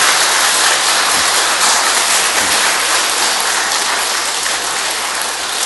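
A big, loud round of applause from a congregation at a Cheondogyo Sunday service in Seoul, dense and sustained clapping filling the room without a break.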